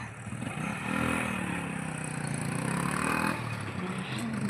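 A small motorbike passes through a village lane, its engine droning close by with a rising and falling whine.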